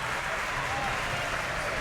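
Volleyball fans at a boys' league championship match cheer and applaud steadily for the Barons, a dense continuous roar of clapping and crowd noise filling the gym.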